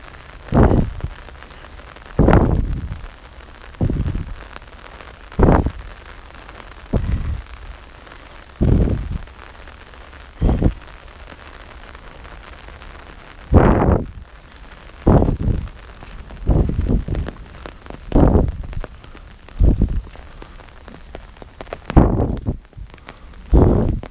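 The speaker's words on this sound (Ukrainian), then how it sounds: "наче затихає дощ" Rain falls in a steady soft hiss at Blue Lake in Vynohradar, Kyiv, punctuated by heavy drips or thuds landing at irregular intervals.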